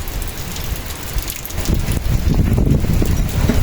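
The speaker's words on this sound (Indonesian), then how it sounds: "Ngeri anginnya." Strong wind roars through a forest around a hut where a pond is being built, a loud continuous rushing gust that swells toward the end, close and unbroken.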